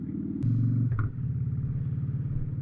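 A motorbike rumbles steadily at close range on a mellow road ride, its low engine throb shifting briefly as it changes pace, with no talking.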